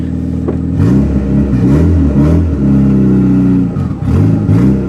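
A turbocharged Honda Integra GSR revs while backing up, its engine rising and falling in repeated loud pulls close by, with a rattling clatter underneath.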